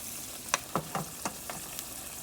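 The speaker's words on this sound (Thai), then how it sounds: "เราก็จะผัดพริกแกงให้เขาได้แบบนี้เลยนะคะ" Red curry paste being stir-fried in a hot pan: about six crisp spatula scrapes and taps over a low sizzle, close and fairly quiet, no talking.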